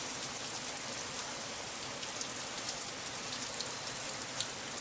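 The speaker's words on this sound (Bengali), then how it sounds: "আর দেখো বাইরে প্রচণ্ড হারে বৃষ্টি পড়ছে" Heavy rain pours onto a flooded rooftop, a dense, steady patter of drops that runs unbroken and evenly throughout, with no voices.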